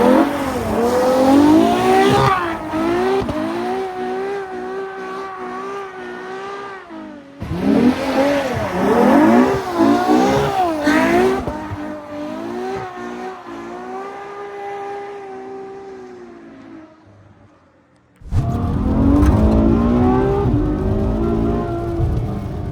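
A Ferrari and another car accelerate hard on a wet road, engines revving up through the gears with rising and falling tones, loud and close, in several long pulls separated by brief lifts of the throttle.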